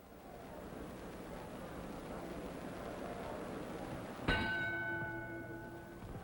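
A single boxing ring bell strikes once to end round three of a heavyweight bout, ringing out with a long, shimmering decay above a steady, noisy arena background.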